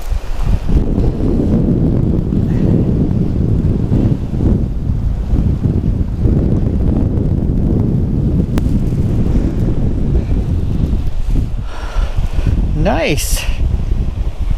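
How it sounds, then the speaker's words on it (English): Strong wind over 20 miles per hour roars across the microphone throughout, a constant loud rumble outdoors while fishing, with someone speaking briefly over it. "Man, that wind's blowing over 20 miles per hour"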